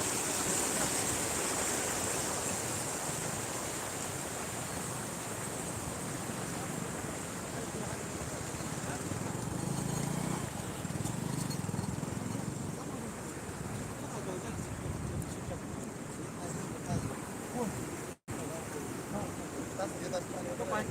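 Floodwater of the Chandani river rushing in a steady, loud, continuous roar with wind buffeting the microphone, lasting throughout without break.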